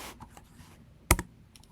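Typing a command on a computer keyboard: a few soft, scattered key taps close by, then one sharper, louder keystroke like the Enter key, followed by faint clicks in an otherwise quiet room.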